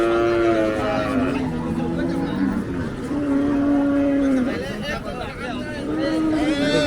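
Cattle low and moo repeatedly at the Hazratpur cattle market amid a busy, noisy crowd of buyers and sellers, with people talking throughout and a steady din in the background.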